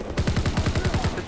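A bomb gun in a video game fires a rapid burst of about ten evenly spaced shots, loud and close, each with a thumping low punch.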